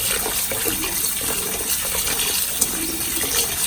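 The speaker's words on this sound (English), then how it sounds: "Run really cold water." Cold water runs steadily from a kitchen tap, a continuous gushing splash as fish sauce is rinsed off, with no pauses.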